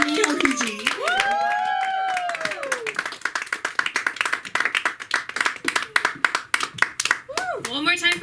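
An audience at a live comedy and exhibit event claps steadily, a dense patter of hands that thins into scattered individual claps, with a voice calling out over the applause near the start and end.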